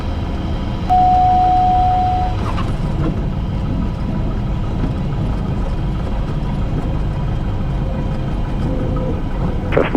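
A Cessna aircraft engine sits at idle with the throttle reduced, giving a steady, loud, low drone that holds even for the whole stretch, with a brief tone near the start and no talking.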